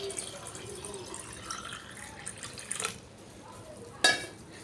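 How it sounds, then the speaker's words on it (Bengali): Water poured into a small pot for a worship ritual, a soft trickling fill with faint background noise and a sharp metallic clink of the vessel near the end. "এখন ঠাকুর স্নান করাবো, তার জন্য এই ছোট ঘটিতে 1 ঘটি জল করে নেব।"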